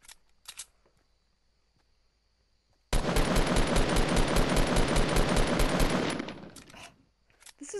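Sustained burst of automatic assault rifle fire in a solo-match shooter game, loud and continuous for about three seconds before cutting off, with a few faint clicks and shots before and after.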